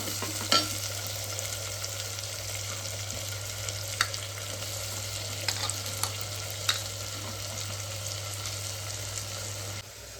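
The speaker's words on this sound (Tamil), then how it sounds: "தக்காளி போட்டு பாருங்கள் ஃப்ரெண்ட்ஸ், தக்காளி போட்டு தக்காளி நல்லா வதங்கணும்" Tomatoes and onions sautéing in a pan for South Indian mutton kulambu give off a steady, moderate sizzle with a few sharp stirring clicks, and there is no talk.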